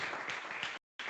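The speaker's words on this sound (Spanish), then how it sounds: "Un aplauso para Francisca." Applause from an audience greeting a guest joining an expert panel on packaging statistics, dense steady clapping that cuts out briefly near the end and then resumes.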